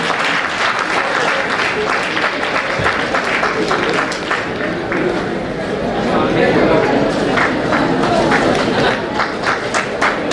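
Continuous crowd clapping at a federation swearing-in ceremony, a steady wash of applause from a seated audience that holds for the whole stretch, with faint chatter underneath.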